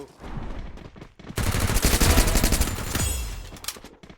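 Gunfire in the mobile video game Free Fire, a rapid automatic burst of loud shots lasting a couple of seconds, with quieter game sounds before and after.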